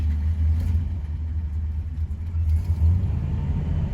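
A 1966 Chrysler Newport engine with electronic ignition idles after a heat soak, giving a steady, loud, low rumble that stays close and even throughout, with no voices.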